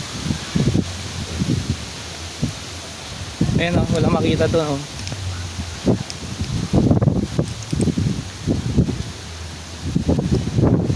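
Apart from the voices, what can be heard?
strong wind blowing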